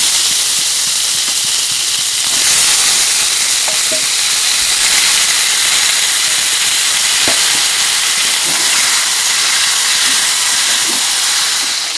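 Chicken sizzles loudly in hot oil cooked down with spices, chilli and turmeric powder, a dense, continuous hiss close by with occasional small pops.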